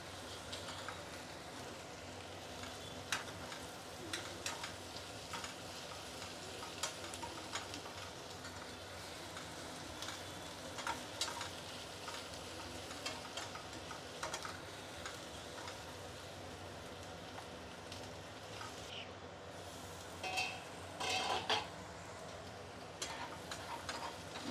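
Ivy gourd (kovakkai) sautéing in a pan for a South Indian pachadi, a steady low sizzle with repeated light ticking scrapes of stirring running throughout, moderately quiet and without speech.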